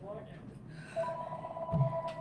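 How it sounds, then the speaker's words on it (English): A telephone rings in a live call-in broadcast studio, a steady electronic ring tone sounding under ongoing talk for the second half of the moment. "We're getting phone calls here"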